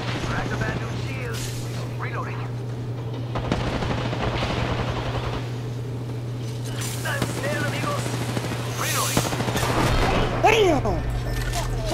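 Bursts of gunfire in the battle royale video game Apex Legends ring out repeatedly through a fast firefight, mixed with other game effects under a steady hum, while players talk over the action.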